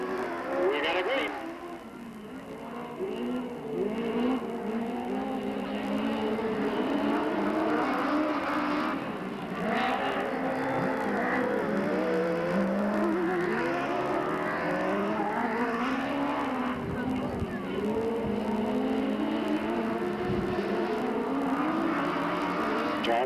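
Race cars at Delta Speedway in 1997 pick up the throttle together on a green flag, a dense, continuous roar of engines rising and sweeping past, steady throughout and partly under a commentator's voice.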